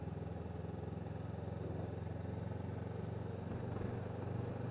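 A motorcycle rides along a road on a European tour, a steady, fairly loud engine drone with rumbling wind and road noise throughout, no talking.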